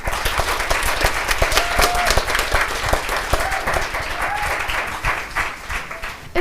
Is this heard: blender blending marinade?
no